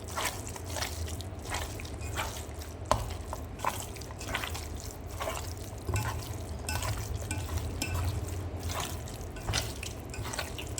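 Minced mutton keema is mixed by hand with tomato paste and salt, giving a steady, close, wet squelching and slapping that carries on throughout with no talk.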